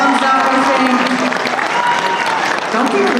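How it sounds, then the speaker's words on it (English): Audience applause at an anime convention cosplay masquerade contest, a steady, dense wash of clapping from a crowd that fills the whole stretch without a break. "They're clapping"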